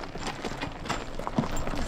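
A Percheron horse working the grape harvest at Domaine Martellière: soft, irregular hoof clops on the ground, fairly faint under outdoor ambience, with no one talking.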